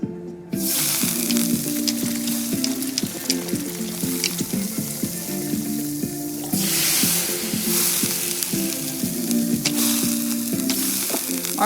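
Noodles, meat and vegetables sizzle loudly on a big, flat, round grill. The hiss swells in bursts as food is tossed and stirred, with steady music running beneath.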